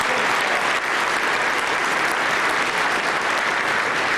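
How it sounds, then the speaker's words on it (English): A luncheon audience gives sustained, dense applause for honored groups, loud and even throughout the short stretch. "How about one more round of applause for all the groups that we have honored today"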